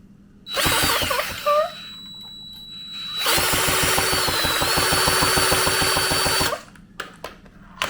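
A power drill spins a Syx Moto 50cc dirtbike engine that won't start, whirring loudly in two bursts of roughly three seconds each, with a rapid rhythmic chug from the turning engine and a few faint clicks afterward.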